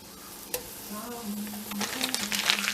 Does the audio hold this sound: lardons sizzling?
yes